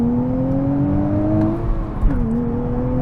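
A 2024 Nissan Z Performance pulls hard from second gear, its engine note rising steadily in a smooth, loud climb, then briefly dipping at a shift before building again, heard from inside the car without talk.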